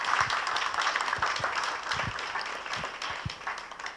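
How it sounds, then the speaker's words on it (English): An audience at an awards ceremony at the Hilton Hotel in Los Angeles applauds, a moderately loud wash of clapping with a few sharper individual claps standing out near the front. "Please give him a round of applause"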